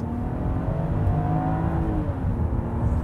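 A 2021 Land Rover Discovery pulls hard at full throttle, its engine note rising steadily in pitch as the revs climb, heard from inside the cabin under a continuous road rumble.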